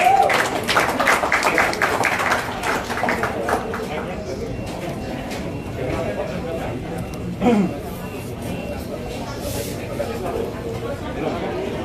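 An audience at a press conference applauds a speaker. A burst of loud clapping at the start fades to a thinner patter, and scattered voices chatter underneath.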